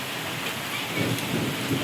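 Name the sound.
rain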